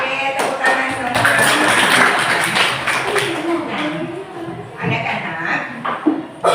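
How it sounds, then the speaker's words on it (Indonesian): A whole classroom of children breaks into general hand clapping, many overlapping close claps and taps forming a loose patter that thins out toward the end, with kids' voices mixed in. "Oke, tepuk tangan semua."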